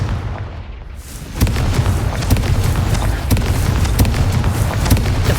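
A Confringo fire spell in Hogwarts Legacy erupts into a sustained loud blast, a sudden burst followed by a dense, crackling roar with repeated sharp impacts that continue to the end.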